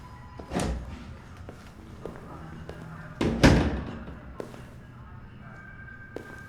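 Door in Detroit: Become Human shutting with two solid thuds, one early and a heavier slam later, over a quiet room tone with faint footsteps and small knocks between.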